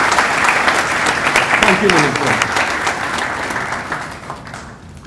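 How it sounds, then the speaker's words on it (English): At a university matriculation ceremony, the audience gives a warm round of applause for the minister: steady, full crowd clapping that gradually tapers off while a speaker talks over it. "show their appreciation to the Honorable Minister through a warm round of applause"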